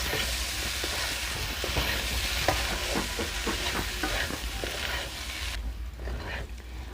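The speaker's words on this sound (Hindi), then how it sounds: "तो इस तरह हम चलाएंगे" Potatoes for aloo dum stirred in a hot pan, a steady sizzle with rhythmic scraping strokes of the spoon that ease off near the end.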